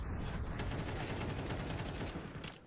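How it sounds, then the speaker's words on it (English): Gunfire in a Counter-Strike match, a dense continuous rattle of shots with pistol fire among them, steady and fairly loud throughout. "Pistol hits him in the face, but Grim still keeps on swinging."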